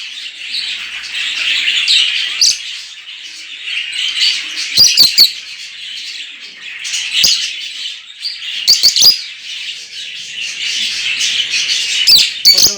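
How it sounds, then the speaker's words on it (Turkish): Busy high-pitched chirping and chattering from a parrotlet kept in a home budgie-breeding room, continuous and fairly close, with sharper squawks breaking through at intervals and no talking. "Ve burada da bir tane geveze cennet papağanımız var."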